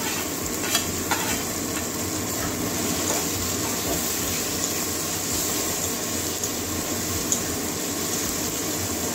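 Chopped tomatoes go into a pan of frying lote (Bombay duck) fish bhuna with turmeric, giving a steady close sizzle with stirring scrapes and a few light clinks throughout.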